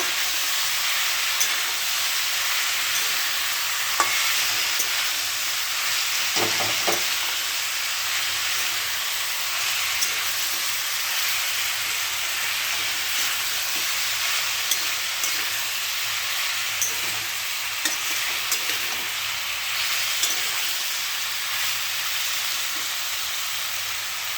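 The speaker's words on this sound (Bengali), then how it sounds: "নুন হলুদ দিয়ে দিয়েছি, ভালো করে এখন কষে নেব" Elephant apple (chalta) pieces with salt and turmeric being sautéed for pickle, giving a steady broadband sizzling hiss that runs unbroken throughout, with faint occasional clinks of stirring, alone without any voice.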